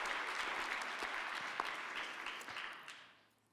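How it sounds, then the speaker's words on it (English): Audience applause at an awards presentation, a dense steady wash of many hands clapping in a hall that fades out toward the end. "Let's give him a round of applause,"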